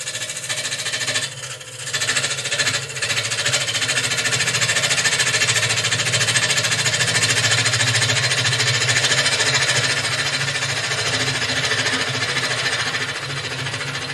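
Wood lathe spinning a workpiece while a gouge cuts along the front on the tool rest: a steady, loud, dense scraping whir with a short dip near the start, then continuing evenly with no talk.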